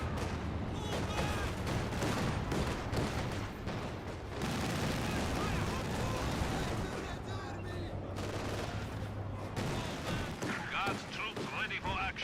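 Infantry gunfire in the video game Company of Heroes 2, with dense bursts of rifle and machine-gun shots and distant booms layered continuously, while a caster talks over the battle.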